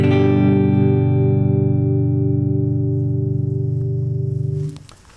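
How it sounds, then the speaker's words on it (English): Clean electric guitar through an Orange TH30 amplifier head with all controls at noon; one sustained chord rings loud and steady for several seconds, then is muted and fades. "here's the clean sound we're using today. It's an Orange TH30 head, and everything is at 12 o'clock."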